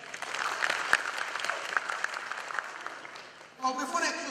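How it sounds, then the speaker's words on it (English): Steady crowd applause fills most of the stretch, then fades as a voice begins speaking near the end. "Round of applause for them."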